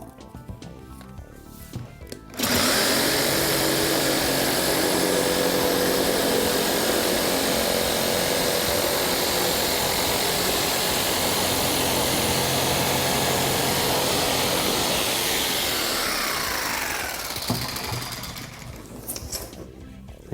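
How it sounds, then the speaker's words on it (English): A jigsaw cuts through an Akril wall panel in one long, steady, loud buzzing run of about fifteen seconds, close up with no talking, winding down at the end. "another tool that we use for cutting Akril panel is a jigsaw"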